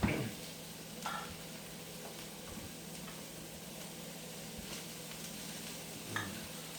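Beef and broccoli frying in oil in a wok, a faint steady sizzle with a few soft scraping stirs of the utensil, quiet and close, with no talking.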